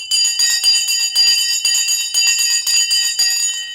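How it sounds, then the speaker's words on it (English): A loud bell rings continuously for a few seconds to open the stock market on a live trading stream, a steady bright metallic peal with no talk over it. "The bell has gone."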